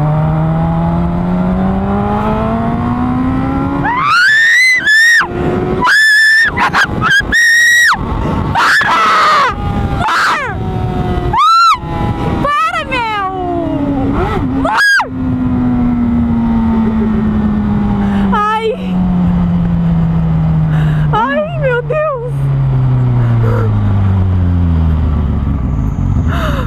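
Honda Hornet motorcycle revving hard as a novice rider learns to shift gears, engine tone rising and falling in long sweeps, with loud shouts and exclamations from a woman and man over it.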